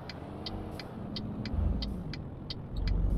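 Volvo FH16 truck driving in Euro Truck Simulator 2, a steady low engine rumble that swells louder partway through, with a faint high ticking pulsing at a regular rhythm over it.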